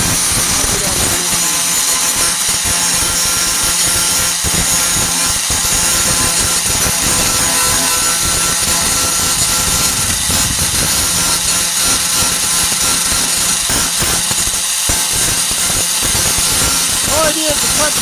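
An angle grinder grinds welds on a rusty 1998 Ford Ranger tailgate during rust repair, a loud steady whine that runs the whole time, with someone talking over it.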